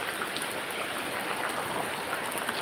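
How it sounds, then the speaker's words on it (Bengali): Steady rain coming down outdoors, a dense even patter of drops spread across the whole clip, moderately quiet and without any voices. "বৃষ্টি"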